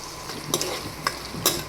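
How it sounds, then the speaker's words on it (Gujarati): Onions sizzle steadily in a frying pan while a spatula stirs them, with a few sharper scrapes against the pan, close up. "હવે આપણી ડુંગળી સરસ ચડી ગઈ છે"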